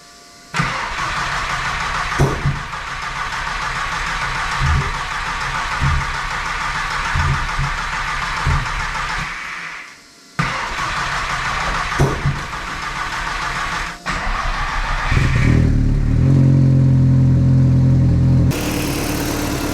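A VW Mk1 Caddy with a 20V turbo engine cranks repeatedly in a rhythmic churning starter sound, pauses, tries again, then catches and settles into a loud running idle close by.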